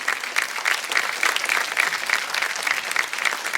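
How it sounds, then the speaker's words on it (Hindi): Loud, sustained applause from an audience at a ceremony honouring a donor, an even wash of many hands clapping together with no voices on top. "जोरदार तालियां कैलाश भाई के लिए"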